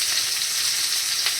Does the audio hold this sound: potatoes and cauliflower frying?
yes